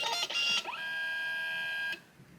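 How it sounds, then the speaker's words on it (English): A Kodak Mini 2 Retro photo printer powers on, opening with a short burst of noise. It then holds a steady electronic ready tone for just over a second before the tone cuts off. "It's gonna make a sound when it's ready."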